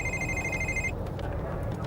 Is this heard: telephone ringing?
yes